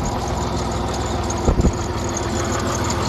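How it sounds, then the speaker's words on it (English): A Dodge Nitro with the 4.0 engine idling with valve train noise, a steady, close engine drone with a fine ticking texture and a brief louder flutter midway, no talking. "Got valve train noise,"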